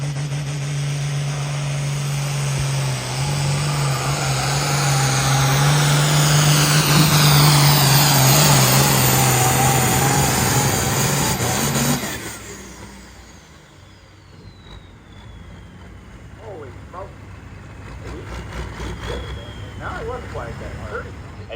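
A pulling tractor engine roars loudly at full throttle during a truck and tractor pull at a fairground event, a sustained howl with rising whine that cuts off abruptly, leaving crowd murmur and an announcer talking.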